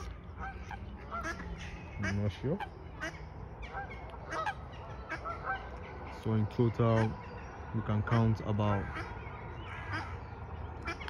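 Loud honking calls from ducks burst out in clusters, close by at Queens Park in Bolton, while a person talks in between and over them.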